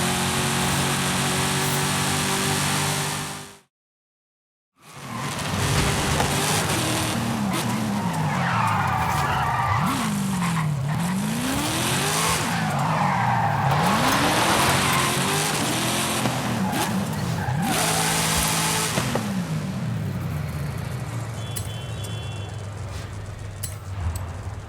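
A Porsche Carrera races in Forza Horizon 5 with its engine revving and tires squealing through repeated skidding slides. There is a brief cut to silence near the start, then loud, sustained engine and tire noise with no talking over it.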